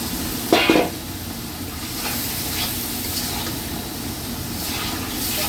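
Spice paste of chili and coriander powder frying with vegetables in a pan after a splash of water, giving a steady close hiss and sizzle with a brief sharp crackle near the start.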